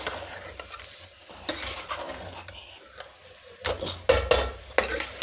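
Mash lentils (urad dal) fry with spices in a hot pressure cooker while a utensil stirs and scrapes in bursts, with metallic clinks against the pot, close and fairly loud.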